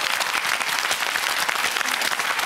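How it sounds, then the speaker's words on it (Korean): Studio audience applause on a Korean TV quiz show, a dense, steady wash of many hands clapping together, loud and sustained throughout with no voices over it. "여러분 이럴 때 박수 한번 부탁을 드리겠습니다"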